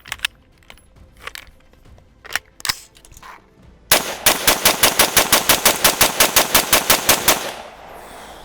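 An AR-style polymer rifle chambered in 5.56 or 300 Blackout fires a few spaced shots, then a rapid, loud string of evenly paced rounds that stops abruptly when the last case stovepipes in the action, leaving ringing outdoor air.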